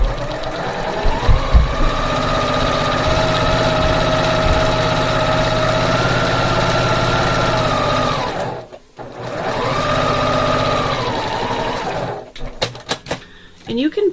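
A sewing machine stitches fabric in two long, steady whirring runs separated by a brief pause, close and loud, with a few clicks and handling noises at the start and end.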